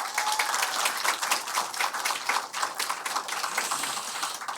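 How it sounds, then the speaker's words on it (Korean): A crowd at a Seoul election campaign event for a preliminary candidate gives a big round of applause, with sharp, dense clapping that stays loud and steady from start to finish. "큰 박수 한번 또 부탁드리겠습니다"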